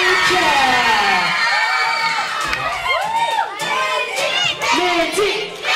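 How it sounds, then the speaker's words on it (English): A lively crowd including children cheers, whoops and shouts over scattered applause at an event's prize giving, loud and close, with rising excited voices throughout. "I want the biggest round of applause for Mindy Cat."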